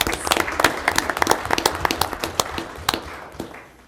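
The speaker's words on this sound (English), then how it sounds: "So applause for Denise." Scattered applause at a Kansas City city council meeting, a small group clapping with distinct, uneven individual claps close by that gradually taper off toward the end.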